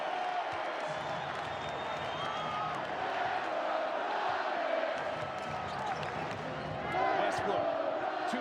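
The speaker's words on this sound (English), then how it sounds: "Listen to this crowd appreciating this effort." A basketball arena crowd roars continuously during an NBA game between the Denver Nuggets and Boston Celtics, with whoops and cheers swelling near the end and sneaker squeaks and bounces faintly underneath.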